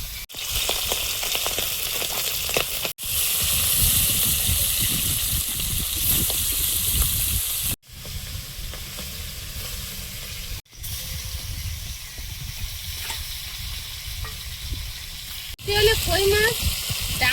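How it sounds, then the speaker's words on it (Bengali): Fish fries in hot oil in a pan, giving a steady, close sizzle and crackle that is cut off abruptly a few times and resumes. "মাছটা ভেজে নেব।"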